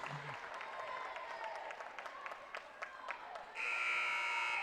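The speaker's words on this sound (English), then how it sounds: "So the buzzer sounds for the very final quarter" A basketball tournament finals crowd cheers and claps with scattered sharp sounds, then a loud electronic game buzzer blares steadily to close out the quarter.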